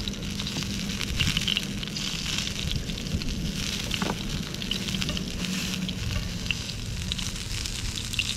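Sea bass fries in a pan outdoors on rocks in the rain, giving a continuous soft sizzle and crackle at low volume with faint scraping stirs.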